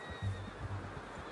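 Horse neighing in the Western video game Red Dead Redemption 2: a short, fairly faint whinny with a few pulsing breaths, heard alone without speech.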